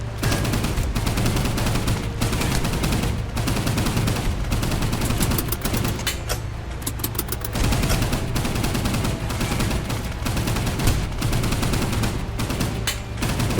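Naval guns firing in the video game Boat Crew: loud, continuous rattling gunfire with rapid overlapping shots, sustained throughout with only a brief lull in the middle.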